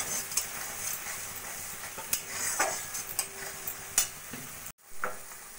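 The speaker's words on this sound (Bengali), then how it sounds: "নারকেল সর্ষের পেস্টটা ভালো করে চিংড়ির সঙ্গে মিশিয়ে নেব।" Prawns coated in coconut-mustard paste sizzle in a pan while a utensil scrapes and stirs in irregular strokes, with clicks of metal against the pan and a brief pause near the end.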